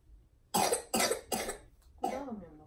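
A child coughing at a family party, four sharp, close coughs in a row with short pauses between them.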